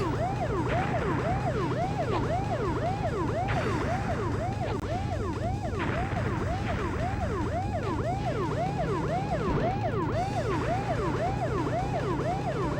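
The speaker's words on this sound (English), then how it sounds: "Hope you guys like the sound of sirens and extra lag." Multiple police car sirens in a PlayStation 1 chase game keep up a loud, unbroken cycle of swooping wails over rumbling engines, briefly shifting in pitch as new sirens join.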